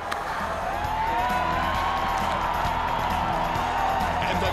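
An audience at a school district all-stars recognition event cheers and applauds for a Haven Academy award winner, a steady, dense wash of crowd noise with scattered whoops running the whole time.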